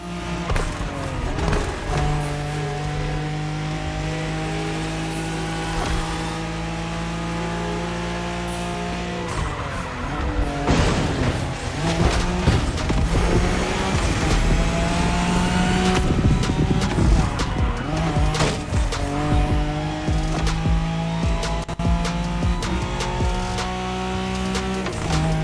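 A Nissan Skyline races in Crew Motorfest along the Tokyo Bayshore route, its engine droning loud and steady through gear changes, with revving surges, tire squeal and skidding over continuous road noise.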